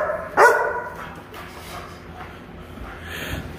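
A German Shepherd gives a single loud, close bark, followed by quieter snuffling and low room noise without talk.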